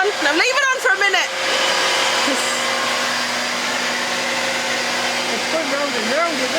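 A vacuum cleaner (hoover) runs indoors with a steady, loud whine that fills the clip, and a voice speaks briefly over it at the start.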